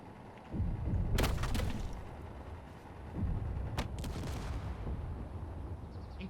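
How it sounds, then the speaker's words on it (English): Hydrogen tanks exploding in Space Engineers: two heavy booming blasts a couple of seconds apart, each with a sharp crack and a rumbling low tail that lingers. "Hydrogen tanks blow up."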